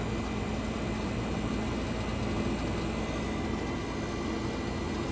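Steady, dense hum and whir of a 1965 Fedders 12,000 BTU window air conditioner with its compressor running, an unbroken droning noise at even loudness with no voices.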